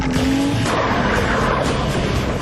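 A remote control car skims and skips across a lake, giving a loud, continuous roaring, rushing noise of motor and spray that stays steady throughout with no talking.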